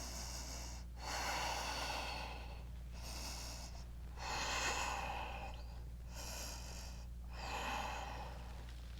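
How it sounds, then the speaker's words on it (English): A yoga practitioner holding an arm balance breathes slowly and audibly, with four long, airy breaths spaced a couple of seconds apart over a steady low hum. "stay where you are and just breathe here"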